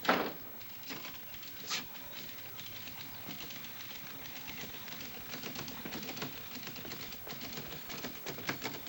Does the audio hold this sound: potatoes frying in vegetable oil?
no